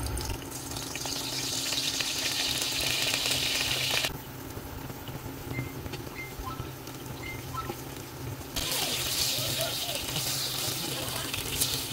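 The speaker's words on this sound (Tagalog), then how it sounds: "prito naman natin yung talong" Sliced eggplant frying in a pan for crispy pork kare-kare, a steady hiss and crackle of oil that drops to a quieter sizzle for a few seconds before swelling again, with speech underneath.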